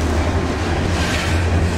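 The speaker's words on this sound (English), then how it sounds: "train moving like molasses in January." A slow-moving BNSF freight train rolls past at a crawl, giving a steady, continuous low rumble of wheels and railcars with no talking.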